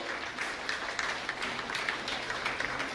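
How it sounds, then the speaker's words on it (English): An audience at a nursing institute ceremony claps for students, a soft, continuous patter of many hands heard from a distance, fairly quiet throughout, with no voices. "Your claps motivate the students all the more."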